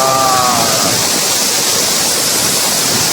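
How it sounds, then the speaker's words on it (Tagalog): A 120-foot waterfall in Maragusan, Davao de Oro roars as a steady, loud, broadband rush of falling water that fills the whole stretch without letup, with a brief faint tonal trace near the start. "Nakakamanghang falls ng Maragusan, Davao de Oro."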